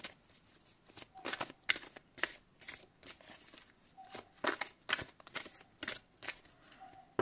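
Playing cards being drawn and shuffled, heard as quick, crisp riffling bursts that repeat about every half second to second, close and fairly quiet, with no voices over them.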